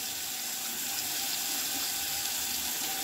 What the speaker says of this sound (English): Then I like to wash it out,